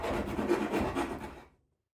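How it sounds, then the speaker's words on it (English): A rounded rasp scrapes out holes in a live-edge cedar shelf board, a short burst of rough, rhythmic filing strokes close up before the sound cuts off into silence. "I'll use the rasp to clean up the other holes as well"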